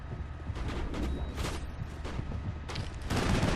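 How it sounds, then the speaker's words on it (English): Heavy gunfire from a big gun in Mass Effect rumbles close and loud as a dense volley of booming shots, building toward a stronger burst at the end. "Wow, that's a big gun"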